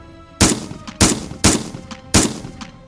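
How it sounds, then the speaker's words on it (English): Four sharp, loud gunshots ring out at irregular intervals, each with a brief echoing tail over faint background noise. "But repeated loud bangs are much more likely to be gunfire."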